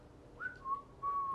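A person whistles a few short clear notes: a brief high tone, then a slightly lower note held steadily, heard alone over faint background hiss.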